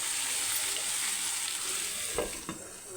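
Village-style country chicken fries in a covered pan with a steady, fairly loud hiss, then two short knocks near the end; no voices.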